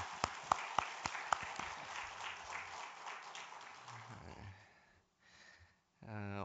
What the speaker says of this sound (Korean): 우리 기대하는 마음과 격려하는 마음으로 우리 고등부 박수 한번 하겠습니다